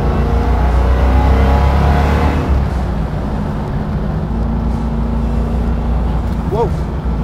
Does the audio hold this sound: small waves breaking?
no